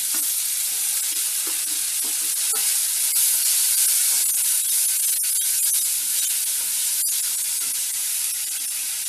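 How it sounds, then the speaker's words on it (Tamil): Garlic and onion sizzle and crackle steadily in a hot pan, a constant frying hiss with occasional stirring scrapes, close and without any talking. "பூண்டு வெங்காயமும் கொஞ்சம் பச்சை வாடை போக வதக்கிக்கோங்க"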